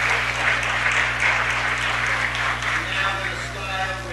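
Audience applause in a Los Angeles city council chamber, a steady wash of clapping from many hands carrying on for several seconds over a low hum, with some voices mixed in.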